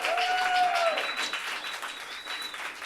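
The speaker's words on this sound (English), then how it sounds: "so we can give them a round of appreciative applause" An audience at a Stonewall commemorative event claps for activists, a moderate crowd applause at a distance that fades gradually, with a voice and faint whistle-like tones over it.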